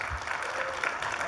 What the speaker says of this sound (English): Can we get a round of applause for our global team?